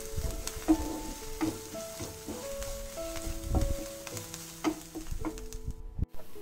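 Grated ginger and garlic fry in a pan with softened vegetables for baingan bharta, a close steady sizzle broken by scraping stirs and clinks of a spoon against the pan, with no voices.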